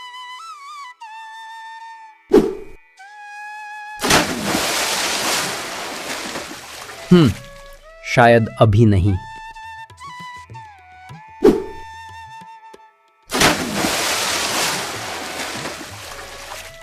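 Sea waves wash in long, loud roaring bursts that swell and hold for several seconds, broken by musical cartoon sound effects and brief spoken lines in Hindi.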